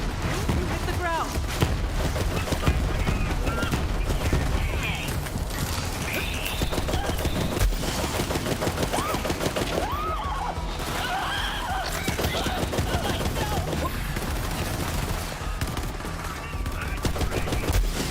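Gunfire crackles through a fight in the video game Borderlands 3, with rapid bursts and clattering shots running almost nonstop under someone talking over the action.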